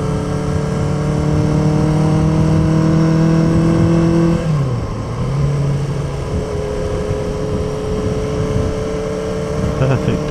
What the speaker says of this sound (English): Perfect day to be out on an old motorbike.